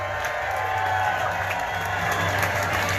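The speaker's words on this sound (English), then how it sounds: "Please give them a round of applause." An outdoor protest rally crowd in the Twin Cities claps and cheers for a brass band. Dense, sustained applause is mixed with whoops and shouts at a steady, fairly loud level throughout.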